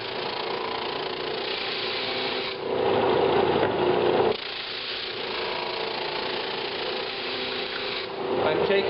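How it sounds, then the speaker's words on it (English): A Flatmaster drum sander grinding wood coated in heavy Titebond II glue, a continuous loud motor hum with rasping abrasion that swells as the board feeds through, voice speaking over it. "We're sanding through that."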